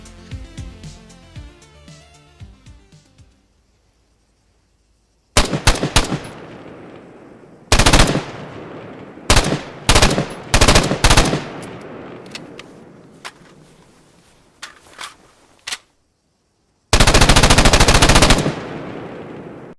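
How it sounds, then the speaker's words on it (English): An HK21, also called the G8, a precision machine gun built on the G3, fires in a video game, with loud bursts of rapid automatic shots separated by silent gaps and one long sustained burst near the end. "The G8, otherwise known as the HK21, is a precision machine gun based upon the G3"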